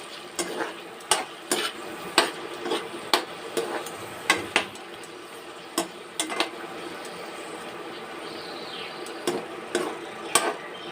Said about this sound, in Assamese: এতিয়া মই এই গোটেইখিনি মই ইয়াতে তেলত ফ্ৰাই কৰি ল'ম